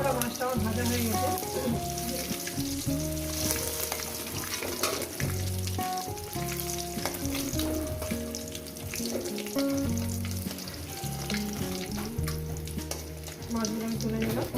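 Pieces of catla fish fry in a pan of oil with a continuous sizzling crackle, occasionally stirred, partly masked by steady background music throughout.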